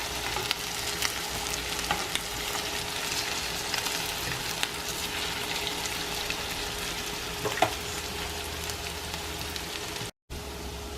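Food sizzles and crackles steadily in a hot pan after being flipped to cook its other side, a close, even frying hiss with a faint tone underneath and one brief dropout near the end.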